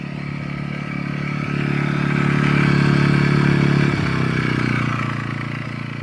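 A Mast YH 2200 inverter generator runs steadily nearby in eco mode, a continuous mid-pitched engine drone that swells slightly and then eases, with no talking.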